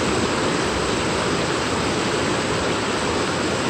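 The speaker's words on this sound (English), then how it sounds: "See how beautiful it is, the waves, the rushing of the adrenaline of the water." Rushing water from a waterfall and stream on a nature hike, a dense, loud, unbroken roar of steady white-noise spray with no voices over it.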